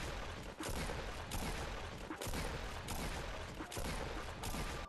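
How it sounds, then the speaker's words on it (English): Pump shotgun in Fortnite firing repeatedly, heavy blasts arriving roughly every half second to second in a steady rhythm, loud and close with no talk over them. "that is basically 7 shots in 5 seconds"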